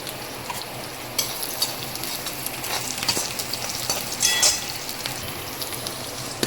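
Vegetables for vegetable upma sizzle and fry in a hot pan, a steady dense crackle with occasional stirring scrapes and brighter pops.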